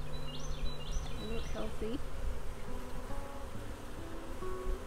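A honeybee swarm being captured from a big hive hums in a steady, dense buzz throughout, with a person talking briefly over it outdoors.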